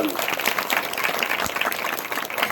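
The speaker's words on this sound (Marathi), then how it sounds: "एकदा जोरात टाळ्या वाजवून सन्मान करावा।" An audience at a visit of a swami to a religious institution applauds in a dense, steady burst of clapping, fairly close and continuous throughout.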